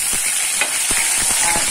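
Ginger paste sizzles in hot oil left over from half-frying chicken, a loud, steady hiss with soft stirring scrapes scattered through it.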